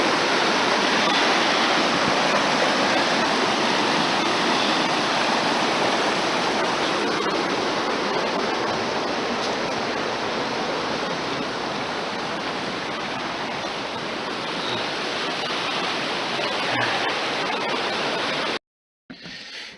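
A river rushes steadily past a forest viewpoint, a broad, constant roar of flowing water that stays close and loud for nearly the whole stretch before cutting off at the very end.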